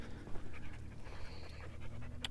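A dog pants steadily at close range, quick rhythmic breaths running the whole time over low engine-like rumble outdoors beside an off-road four-wheel-steer buggy.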